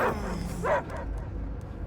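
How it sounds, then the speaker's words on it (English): In the Marvel's Guardians of the Galaxy video game, a dog gives a couple of short yips and barks over a steady low rumbling game ambience, with no talking. "I hear only barking."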